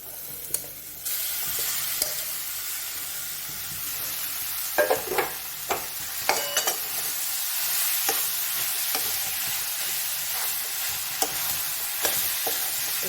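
A thick soybean paste fries with a steady sizzle in a pan while a spoon stirs and scrapes at irregular intervals, close by, with no talking.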